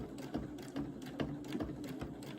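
A sewing machine stitches circles on bucket hat fabric, giving faint, close mechanical clicking in short bursts of regular beats, with no voices.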